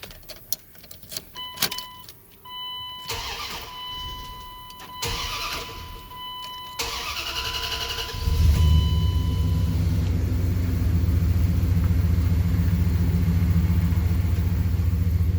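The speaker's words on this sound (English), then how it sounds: "Let me start her up for you real quick." Several clicks and warning chimes, then a 2001 Dodge Ram pickup's V8 engine with a Flowmaster exhaust cranks and fires up into a loud, deep, rumbling idle that continues steadily.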